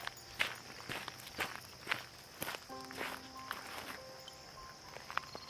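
A dog padding along on a short walk, soft rhythmic footfalls and light rustles close by, fairly faint, with a few brief chirping tones in the background and no talk.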